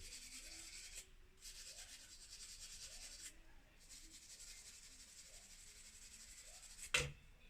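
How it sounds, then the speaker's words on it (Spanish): A small wire brush scrubs black crust off a pair of garden scissors in repeated short, raspy strokes, close and fairly quiet, with brief pauses and a sharp knock near the end. "se le puede pasar un cepillito de alambre cuando es mucho lo que tiene"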